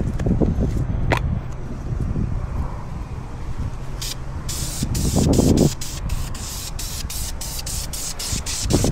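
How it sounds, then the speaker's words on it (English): Clear coat sprayed from an aerosol can onto car wheels: a run of sharp, hissing bursts, closely spaced and fairly loud, over steady low background noise. "so we can hit it with the clear coat"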